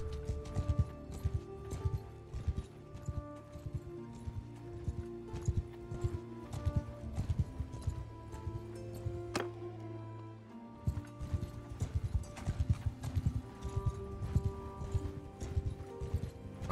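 Horse hooves gallop in Mount & Blade 2 Bannerlord, a steady rhythmic clip-clop that runs almost throughout, with some mechanical clatter and no talking.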